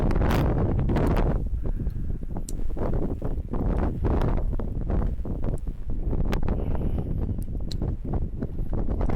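Strong wind gusts across open water against a tidal current, roaring steadily and buffeting close to the microphone with continuous rumbling turbulence throughout.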